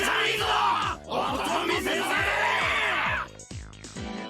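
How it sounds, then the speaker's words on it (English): A large crowd cheering and yelling wildly in Higurashi When They Cry, dense roaring voices that briefly dip midway, then break off near the end before a softer murmur returns. "The crowd went wild when they saw our conversation."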